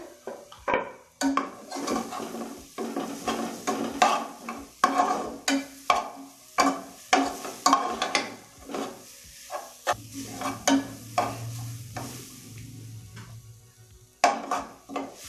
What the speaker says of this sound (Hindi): इसे 2 मिनट के लिए भून लेंगे और इसे इस तरह चमचा से हिलाते रहना